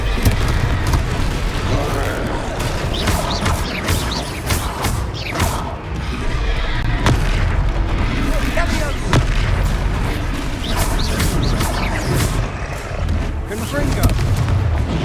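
Hogwarts Legacy Confringo fire spells explode in repeated heavy booms amid a loud, continuous combat roar, with characters shouting and talking over the blasts.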